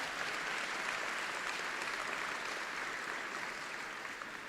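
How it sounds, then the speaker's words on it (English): A university lecture audience claps in sustained applause, a dense, even wash of many hands that holds steady throughout and tapers slightly at the end. "she deserves to be applauded"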